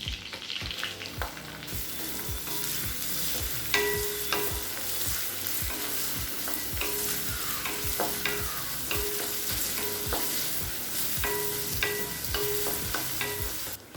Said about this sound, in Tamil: அடுத்தது பொடியாக நறுக்குன்னு ஒரு வெங்காயத்தை சேர்த்துக்கலாங்க